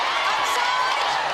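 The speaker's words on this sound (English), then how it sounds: "the crowd are starting to erupt" Netball crowd at a Fast5 final between New Zealand and Australia, a dense, loud roar of cheering and whooping that continues without a break.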